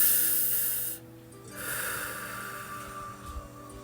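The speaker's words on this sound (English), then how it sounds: "I want you to take a deep breath with me." A person takes a deep breath close by, with a long loud inhale followed by a quieter, airy exhale and a short snort-like breath near the end, with no talking.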